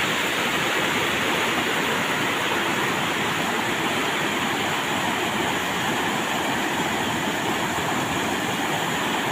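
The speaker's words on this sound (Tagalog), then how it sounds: "Ang lakas ng agos ng ilog natin." A strong river current swollen after rain, heard as a steady, loud roar of rushing water that fills the scene without a break, with no voices.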